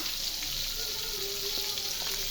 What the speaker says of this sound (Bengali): মাছের তেল দিয়ে মাছ ভাজতেছি